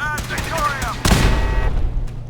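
Automatic turret fire in the Fallout 4 video game, a sudden loud burst of rapid shots breaking over a droning backdrop with faint tonal game sounds just before it.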